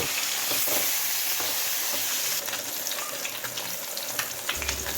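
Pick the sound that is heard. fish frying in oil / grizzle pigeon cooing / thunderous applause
fish frying in oil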